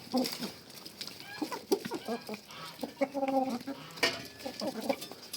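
A rooster and hens clucking nearby, short choppy calls from a few birds overlapping with some faint background voices.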